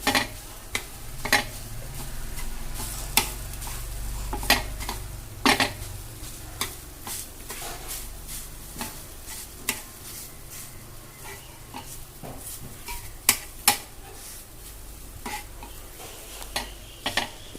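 Utensil repeatedly scraping and tapping a pan, irregular clinks over a faint low sizzle as dry gram flour is stirred and roasted.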